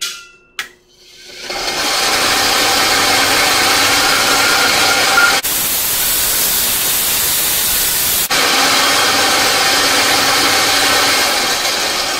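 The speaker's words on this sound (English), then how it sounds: "Use an angle grinder." An angle grinder works on sword steel for a forged Master Sword blade, a loud continuous high-pitched whine and hiss that starts after a short clank and briefly changes tone midway; no talking.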